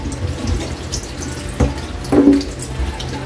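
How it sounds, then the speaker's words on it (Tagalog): Weak stream of water running from a kitchen tap into a sink while raw food is rinsed, a close, splashing flow with a couple of brief louder gushes and clatters as it hits the basin. "Mahina yung tubig dito, Kaylee."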